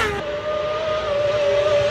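Isle of Man TT racing motorcycles tear past at speed on a wet road, a loud sustained high-pitched engine whine holding steady for a couple of seconds with no talking.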